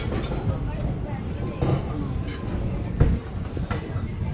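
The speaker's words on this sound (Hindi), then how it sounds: "ट्रेन जो है निकल चुकी है अभी मोहाली रेलवे स्टेशन से भी।" A sleeper train on the Kalka to Katra route pulls out of Mohali railway station, giving a steady broadband rumble and rattle with a brief louder clank near the end.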